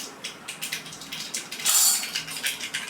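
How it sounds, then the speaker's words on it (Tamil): Mustard seeds splutter and pop in hot oil during tempering for an arai keerai kadaiyal, a steady close crackle of sharp pops over a sizzling hiss, with a louder burst midway. "கடுகு பொரியுது பாருங்கள்."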